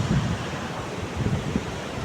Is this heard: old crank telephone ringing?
no